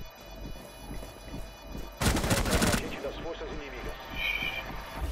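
Burst of gunfire in Rainbow Six Siege: a loud, dense volley of rapid shots lasting under a second, standing out sharply over a steady background of game ambience and players talking.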